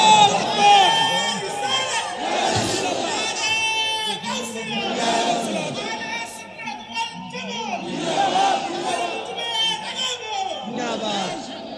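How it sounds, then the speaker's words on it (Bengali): A huge outdoor crowd at a Bangla Islamic sermon gathering chants a religious slogan, massed voices rising in repeated waves of call and response, loud and continuous throughout. "একটা স্লোগান হবে ইনশাআল্লাহ।"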